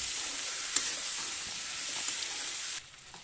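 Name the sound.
cut potatoes frying in a pan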